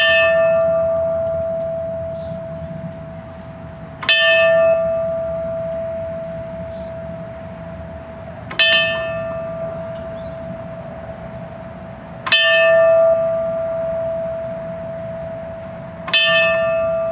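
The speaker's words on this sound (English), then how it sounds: "we will now ring the bell 5 times" A memorial bell tolled at a September 11 ceremony at Brookhaven Town Hall, five loud, evenly spaced strikes about four seconds apart, each ringing out and decaying into the next over a steady hum.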